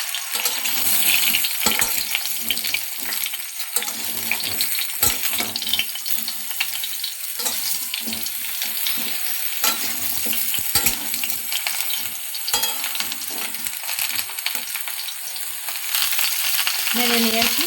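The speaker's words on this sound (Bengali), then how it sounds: "আমগুলো দিয়ে দেব তেলের মধ্যে।" Mango pieces frying in hot oil for a sweet mango pickle, sizzling steadily throughout while being stirred with scraping and clinking sounds close by.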